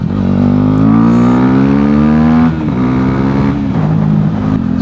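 A car engine roars loud and close on a road climbing Mont Ventoux, revving steadily upward in pitch, then dropping briefly before holding a strong, throaty drone without any voices.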